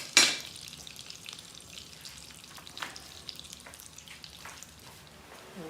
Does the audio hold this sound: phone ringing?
no